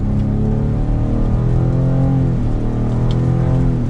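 A 2022 Cadillac XT6 Sport with all-wheel drive pulls away under light throttle in manual mode, its engine note rising in steady, smooth harmonic sweeps as the revs climb, loud and close throughout.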